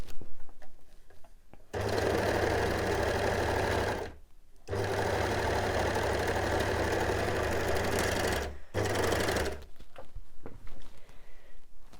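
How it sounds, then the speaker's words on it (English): A sewing machine stitches along the edge of a folded leggings waistband piece in two long, steady runs of close, loud rhythmic whirring, separated by a brief pause, with quiet handling noises before and after. "You're going to sew along this edge here."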